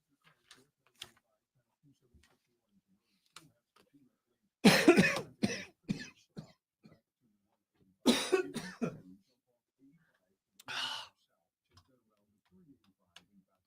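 A few separate coughs and throat-clearing bursts from one person on a live radio show, near and fairly loud, with quiet gaps and faint ticking between them.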